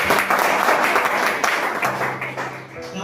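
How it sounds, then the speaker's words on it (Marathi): A seminar audience claps loudly and densely, the applause gradually thinning toward the end as a low hum appears beneath it. "एकदा एक सगळ्यात जोरदार टाळ्या"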